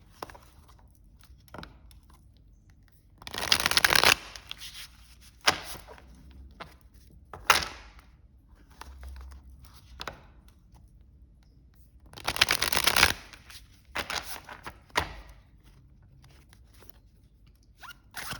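Phantomwise Tarot cards, textured on both faces, are shuffled up close in a few short riffling bursts. Quieter handling noises and pauses fall between the bursts.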